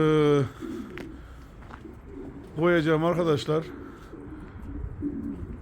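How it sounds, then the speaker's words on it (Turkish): Pigeons cooing in a coop, with repeated close, throaty coos rising and falling in short bursts while someone talks nearby. "Bir de sizler için arkadaşlar güvercinleri ayırıyorum."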